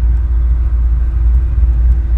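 A 1982 Ford Fairmont XE ESP with a 5.8L V8 cruising on the road, heard as a steady, loud low engine rumble and road drone from inside the car, with no talk.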